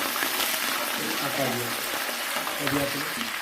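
Dried red chillies and mustard seeds crackle and sizzle in hot oil for a Kerala ginger curry, a steady frying hiss running beneath a voice talking throughout.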